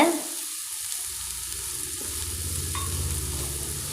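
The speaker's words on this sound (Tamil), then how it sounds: "நல்லா வதக்கிக்கோங்க வெங்காயம் நல்லா வதங்கியாச்சுங்க" Onions, green chilli and curry leaves sauté in a pan for beetroot poriyal, giving a steady, even sizzling hiss with a faint low rumble beneath, close and unbroken, no talking.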